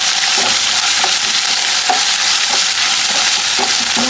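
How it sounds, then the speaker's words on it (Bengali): A ginger, garlic and cumin paste fries with browned onions in a pan for an egg and potato vegetable curry, giving a loud, constant sizzle broken by regular scraping stirs about every half second. "রসুন আর জিরা একসাথে ভেজে নেব"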